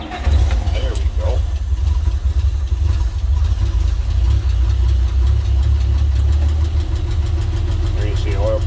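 A 1929 Willys Whippet C101 stake bed pickup's engine idles loudly and steadily after a cold start, with a deep, throbbing low rumble and faint ticking throughout, while someone talks briefly over it.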